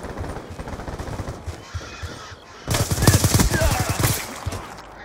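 Rapid bursts of video game gunfire crackle in a dense, loud volley over a muffled game soundscape.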